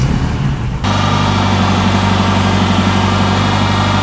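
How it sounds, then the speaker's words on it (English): A car with Bosch fuel injection, a Ferrari 328/308 or Mercedes 450/280/500, starts after a brief quieter moment and settles into a loud, steady, close idle with a low humming engine drone. "Now, it's gonna start and stop because there's no fuel pressure in there."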